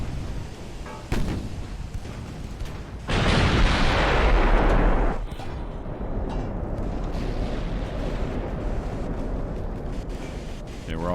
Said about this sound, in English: Okay, we're all firing on Atalante now.